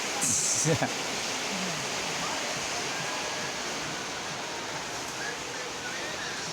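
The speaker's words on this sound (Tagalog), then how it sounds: "Ang lakas kasi ng ulan." Heavy rain pours steadily in a dense, hissing wash that stays loud and constant throughout, with a faint brief noise near the start.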